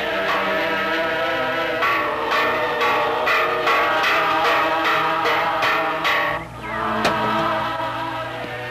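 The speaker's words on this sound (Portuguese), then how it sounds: "Que barulho é esse? É um sino, embora não pareça." A church bell on Molokai rings in rapid, evenly spaced strokes, loud and resonant, then stops abruptly, leaving a lingering hum and one last faint stroke.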